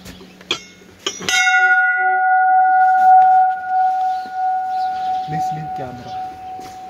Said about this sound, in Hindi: घंटी बजा दो